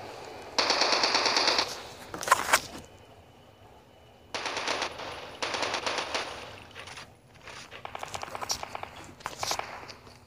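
Rapid bursts of automatic gunfire crack out in a Call of Duty battle royale match on Android, several loud rattling volleys separated by short quiet gaps with footsteps between them.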